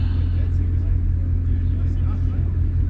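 A car fitted with newly installed lowering springs gets a light rev, a steady, loud low engine rumble that holds throughout with a person talking over it.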